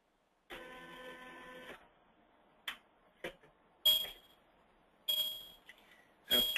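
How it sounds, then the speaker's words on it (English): A Zebra Bluetooth mobile printer powers up with a buzzing whir, then gives a series of sharp clicks and ticks and several bright electronic beeps, all close and loud against a quiet room. "I also have a printer here that I'm going to turn on"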